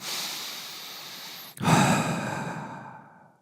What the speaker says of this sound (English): walk your fingers out and away, and breathe